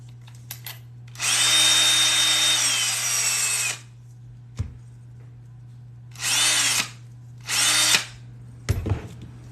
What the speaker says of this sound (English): Drill the holes a little bit better.